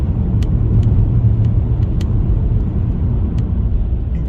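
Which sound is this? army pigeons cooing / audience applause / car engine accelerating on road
car engine accelerating on road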